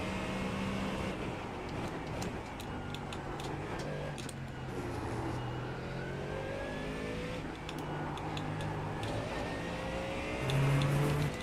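Mustang race car in the iRacing sim at Oulton Park, engine droning steadily with shifting pitch lines throughout, loud and close, a brief rise near the end.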